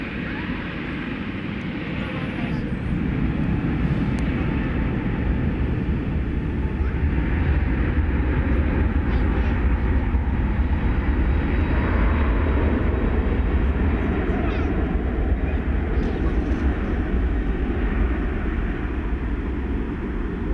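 Airplane departing DFW Airport at night, a continuous loud, broadband jet roar heard from a distance and sustained throughout.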